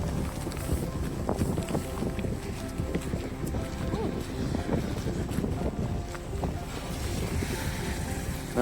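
Steady wind rushing and buffeting across the microphone, a continuous broadband roar with low rumble throughout.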